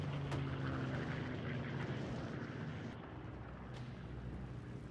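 A military transport plane flying during a WWII paratrooper jump over Normandy in a war drama scene: a steady, quiet broadband engine drone with a few faint, brief transients, dropping slightly in level toward the end.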